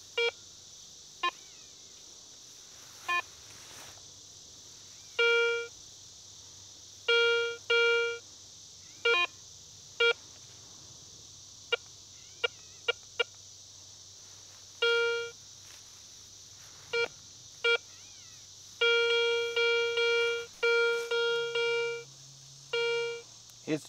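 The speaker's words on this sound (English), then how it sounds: "it's hitting pretty good on the metal detector" A metal detector sounds over a buried coin target, giving repeated short electronic beeps and tone bursts in irregular clusters over steady background hiss, with denser runs of beeps near the end.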